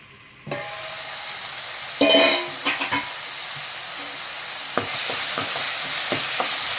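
Tomatoes sauté in hot oil in a pan for a fenugreek tamarind kuzhambu, sizzling continuously while a spoon scrapes and stirs in several quick bursts, close up and without talk.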